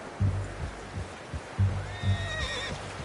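A horse whinnies in the video game Red Dead Redemption 2, rising and then falling away, over soft hoof clops and low thumps in the background.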